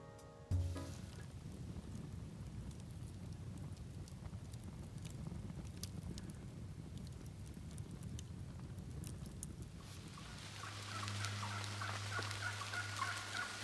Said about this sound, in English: I'm surrounded by turkeys.